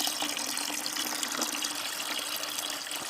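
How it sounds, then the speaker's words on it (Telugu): Two-day fermented rice water pours steadily into potting soil mix for a terrace-garden container, a close, continuous gushing splash with no voices, lasting about three seconds. "ఈ టూ డేస్ ఫర్మెంట్ అయినటువంటి రైస్ వాటర్ కూడా యాడ్ చేస్తున్నాను"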